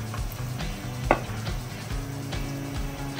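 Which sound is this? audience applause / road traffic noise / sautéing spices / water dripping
sautéing spices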